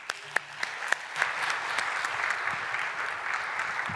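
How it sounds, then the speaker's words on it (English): Audience applause for a speaker being introduced at a tech talk on Mac disk encryption, a few sharp early claps swelling into steady, moderate clapping from a mid-sized crowd that continues evenly throughout. "just a round of applause for Rich."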